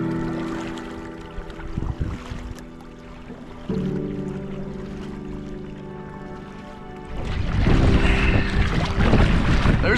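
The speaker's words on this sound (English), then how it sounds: "There's a little wind to wake us up" Wind blowing across a Michigan fall campsite, a steady rushing buffet on the microphone with a low droning hum, growing stronger and gustier toward the end.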